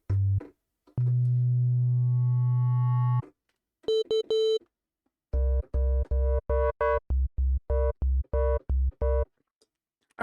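Synthesizer FM tones built from two slightly offset sine waves: a sustained buzzy low note, a short higher bleep, then a rapid rhythmic series of punchy plucked bass notes, all alone without voices.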